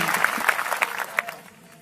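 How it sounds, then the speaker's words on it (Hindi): An audience at a Christian testimony gathering claps in scattered, moderately loud bursts that thin out toward the end, with a few voices faintly mixed in. "इनके लिए ताली बजा दीजिए"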